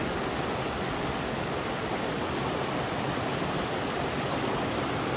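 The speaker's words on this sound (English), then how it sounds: "we're down at the river" A river on the Appalachian Trail rushes steadily, a dense, unbroken broadband roar of flowing water close by, with no other sounds rising above it.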